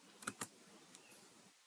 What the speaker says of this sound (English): I'm just typing a dummy name.